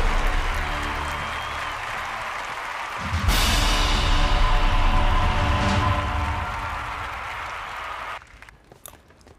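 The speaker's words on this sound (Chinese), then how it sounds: "那下面让我们用掌声有请出ENG战队和笑龙战队" An esports event audience breaks into applause as competing teams are welcomed onto the stage, a swelling wash of clapping under background music, fairly loud, that fades out near the end.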